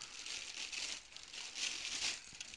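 A thin plastic bag from a Cooler Master MWE 600 White V2 power supply box crinkles and rustles continuously at close range, with bright, crackly bursts rising and falling over a couple of seconds.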